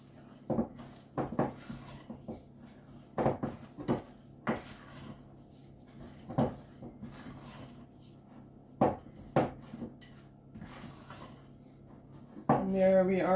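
Spoon scraping and knocking against a bowl while chocolate chip cookie dough is stirred together in a home kitchen, irregular clacks and thuds with quiet gaps and a brief louder rattle at the end.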